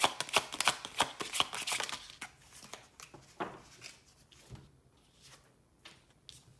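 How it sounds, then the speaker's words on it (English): Tarot cards are shuffled in quick, crisp riffling bursts for the first couple of seconds, followed by softer, sparser card handling and taps close by. "I'm going to pull some tarot now."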